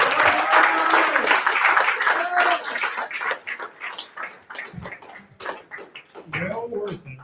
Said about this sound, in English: Let's get a round of applause for the Teletubbies.